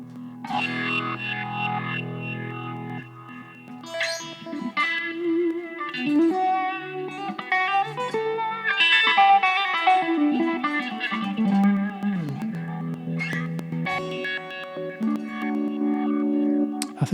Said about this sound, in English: I'm going to try the liquid filter.